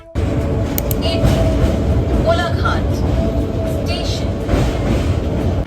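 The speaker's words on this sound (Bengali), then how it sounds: "এই লোকাল ট্রেনটাই কিন্তু মেচেদা অব্দি গিয়ে তারপর সেটা দীঘার দিকে চলে যায়" A local passenger train on the Mecheda route towards Digha rumbles steadily along the tracks, heard from inside a carriage, loud and continuous, with faint voices murmuring in the background.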